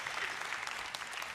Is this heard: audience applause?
yes